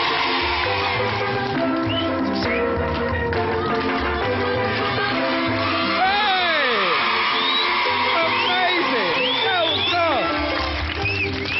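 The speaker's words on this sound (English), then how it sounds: "So let's have a bit of a cheer." A studio audience cheers and whoops for a woman attempting a limbo, loud sustained crowd noise with rising yells and shouts swelling midway through.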